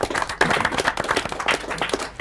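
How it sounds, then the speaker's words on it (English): A burst of many hands clapping together, dense and continuous applause from a crowd at a casino poker tournament, moderately loud throughout. "Let's give Chris in the 7th seat a round of applause."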